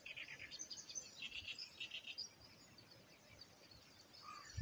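Faint high chirps and trills of small wild birds sound from a distance over a soft, steady outdoor hiss, in riverside woodland along the Shinano River in Nagaoka.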